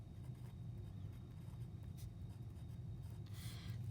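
Coordinates being written by hand, a faint continuous scratchy rubbing of pen or pencil on paper with a few brief louder strokes, no talking.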